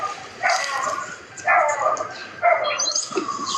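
A dog barks repeatedly, four loud, closely spaced bursts of yipping barks about a second apart, near and prominent over a quiet background.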